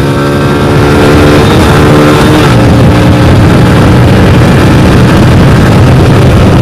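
A KTM Duke 200 and a Hero Splendor motorcycle run a drag race, engines roaring loud and near, with a steady, rising rev that shifts tone partway through and stays continuous throughout.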